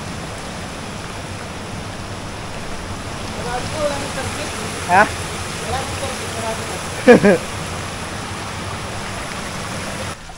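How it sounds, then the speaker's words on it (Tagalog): Rain falling outdoors among large rocks in Trece Martires, Cavite, a steady broadband hiss throughout, with a couple of brief voices breaking through. "nabot na kami ng ulan"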